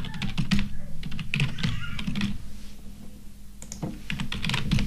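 Fingers type on a computer keyboard with quick clusters of keystrokes and short pauses between them, close and clear, while setting up a WordPress contact form. No talking is heard.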